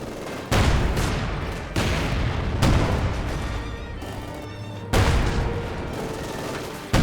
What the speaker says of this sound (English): Stuke here blasting away.